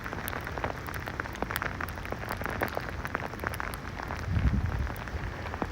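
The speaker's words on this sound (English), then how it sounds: "Holy crap, it's sleeting like crazy right now." Sleet falls during a New York City storm, a steady dense patter with sharp scattered ticks of ice, and a low rumble swells briefly near the end.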